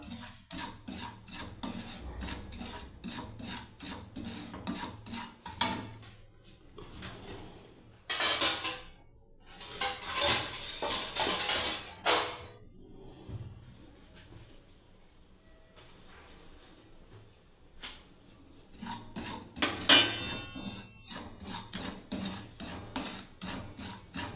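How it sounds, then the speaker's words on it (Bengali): Semolina (suji) roasts in a pan, heard as repeated scraping and rasping strokes of stirring, bursts of rubbing broken by quieter gaps, close and fairly faint, with no talk. "একটু কাঠ খোলায় বন্ধুরা সুজিটাকে প্রথমে ভেজে নিলাম ভালোভাবে।"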